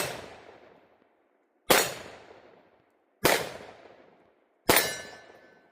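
Four single shots from a Taurus TH10 10mm pistol firing hard cast ammunition, loud sharp cracks spaced about a second and a half apart, each ringing out and decaying outdoors.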